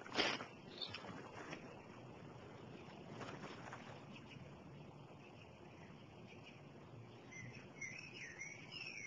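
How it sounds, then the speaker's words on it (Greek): Faint, high chirps of a sparrow near the end, over a soft wash of wind and outdoor noise. "Ένα σπουργίτη είναι, πατέρα."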